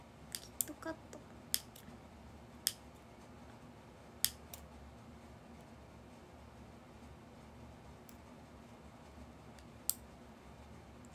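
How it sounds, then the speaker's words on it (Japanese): Scissors cutting, heard as sparse sharp snips and clicks at irregular intervals, close and crisp over a quiet room hum, with no talking. "このハサミだと無理かも。"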